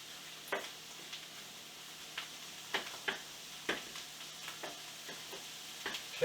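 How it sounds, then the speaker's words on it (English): Mushrooms, bell pepper and spinach sizzle softly in bacon grease in a frying pan, with a steady low hiss and scattered sharp pops and crackles. "in the frying pan, in the bacon grease, you have the mushrooms, the bell pepper, and the spinach"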